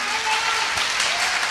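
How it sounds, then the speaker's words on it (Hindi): Brief burst of audience applause, a dense patter of many hands clapping at once, loud and steady through its short span. "मैं चाहूंगा सर के लिए एक जोरदार तालियां।"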